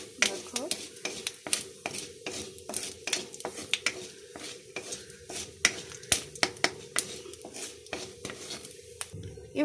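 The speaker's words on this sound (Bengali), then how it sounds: "আমি লঙ্কাটা দিয়ে দিলাম, একটু পাঁচফোড়ন দিয়ে দেব, একটু সর্ষে দিয়ে দেব, একটু নাড়িয়ে নেব।" Chili, panch phoron and mustard seeds fried in a little oil and stirred, heard as rapid metallic spatula clinks and scrapes against the pan over a faint sizzle, close and rhythmic.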